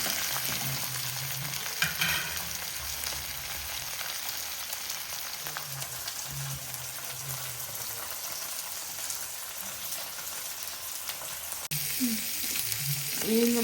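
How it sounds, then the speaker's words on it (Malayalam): Mackerel frying in a pan gives a dense, continuous hiss and crackle of hot oil throughout, with faint low murmurs of voices and a few clinks underneath. "ചെറിയതല്ലേ അതിൻ്റെ കൂട്ടെടുത്ത് പൊരിച്ചെടുക്കാം."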